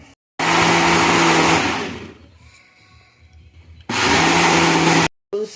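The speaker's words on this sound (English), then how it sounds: "And now this is ready to be blended." A blender blends a mustard marinade in two loud, steady bursts of whirring motor noise, each about one and a half seconds long, with a quieter pause between them and a short blip at the end.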